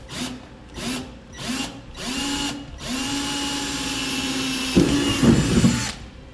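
A power drill bores a pilot hole into the steel bed of a 2015 GMC Sierra 3500 pickup, sounding as several short whirring bursts and then one longer sustained run that ends in rougher grinding as the bit bites through.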